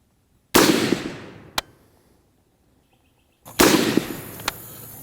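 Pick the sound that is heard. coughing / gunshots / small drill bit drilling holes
gunshots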